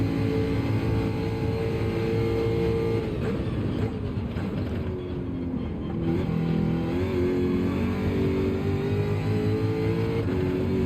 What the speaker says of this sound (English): I mean, the engine sound is lovely,